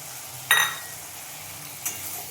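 Spice masala with tomato paste being stirred and fried in a pan: a steady soft sizzle broken by two sharp scrapes of a spoon against the pan.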